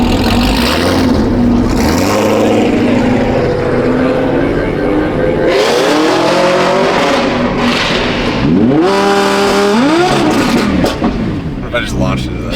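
A supercharged Audi R8 launches and accelerates at a TX2K event, its engine rising and falling through loud revving sweeps with shifts, amid surrounding crowd and engine noise.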